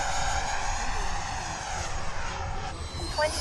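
A model airplane flies at Fritz Field, its engine holding a continuous, fairly loud drone with a slight waver in pitch and no speech over it.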